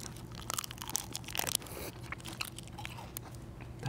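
Close, quiet crunching and chewing of chocolate, with soft bites and mouth sounds running steadily over a low background hum.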